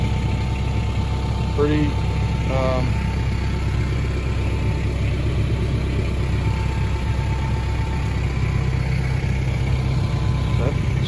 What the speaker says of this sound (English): So you can see the other tractors in this area here.